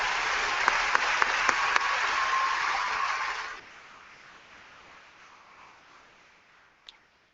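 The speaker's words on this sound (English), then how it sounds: "How about a round of applause," A high school graduation audience applauds the school board members seated on stage. Loud, sustained clapping with a few sharp claps stops abruptly about halfway through, leaving a quiet room with one faint knock near the end.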